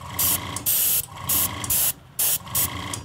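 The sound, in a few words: airbrush spraying isopropyl alcohol onto paint pigments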